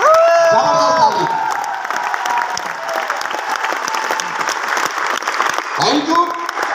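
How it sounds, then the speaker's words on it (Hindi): Loud audience applause with scattered cheers and whoops fills a Jaipur gathering hall, sustained throughout, while a voice speaks briefly over the start and again near the end. "एक जोरदार ताली महागुरु महिपाल सर के लिए, जबरदस्त ताली"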